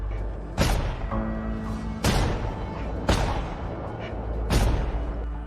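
Four sharp, heavy gunshots ring out about a second apart, each a loud booming crack with a short echo trailing off.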